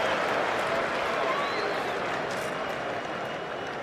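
A cricket crowd at a Lord's Ashes Test between Australia and England cheers and applauds, a broad, loud roar of clapping and voices that holds steady and fades slightly at the end.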